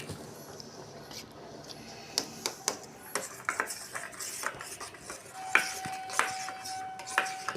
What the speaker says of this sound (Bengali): অল্প করে আমুল দুধটা আমি এর মধ্যে গুলে নেব